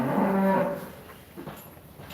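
Angus and Holstein cattle give one close, loud, low moo that fades after about a second into quieter farmyard background.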